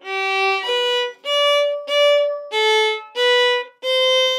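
Solo fiddle playing a slurred run of seven bowed notes from "The Kissing Dance", stepping up and down in pitch, smooth and resonant, with short gaps between strokes.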